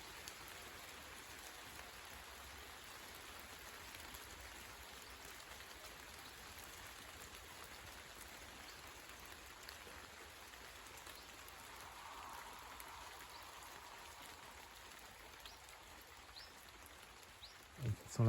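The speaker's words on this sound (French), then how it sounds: "C'est que de la pluie, pas de la grêle." Heavy shower of large raindrops falling steadily in the open air during an evening downpour, a continuous wash of patter with no hail, fairly close and uniform throughout, with a brief knock near the end.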